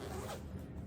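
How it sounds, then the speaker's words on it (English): Zipper on a small sewn fabric travel case, a brief, quiet zip heard up close and alone, lasting under a second. "It has a zipper in the front here."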